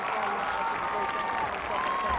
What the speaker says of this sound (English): how about we give them a bigger, louder round of applause?